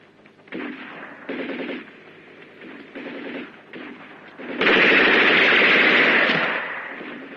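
Gunfire on a film soundtrack rattles in bursts of rapid repeated shots, then swells into a dense, loud sustained barrage that slowly fades.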